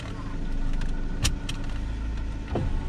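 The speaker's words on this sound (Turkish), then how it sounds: "Dizel olduğu için maalesef araba sesli çalışıyor." A Land Rover Freelander diesel engine idles steadily with a low, rattling hum, heard from inside the car, punctuated by a couple of sharp clicks and a brief squeak.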